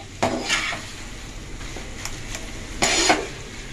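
A spatula scrapes and knocks against a pan while paratha filling is mixed, producing a few sharp, close scraping strokes and taps separated by quiet gaps over a low sizzle.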